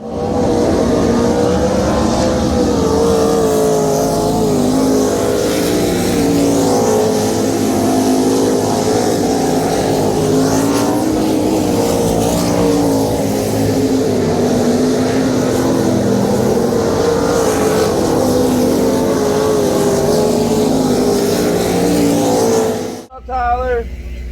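Drag race car engine at a Winternationals night session during hot laps, a loud continuous drone held steadily for over twenty seconds before cutting off abruptly near the end.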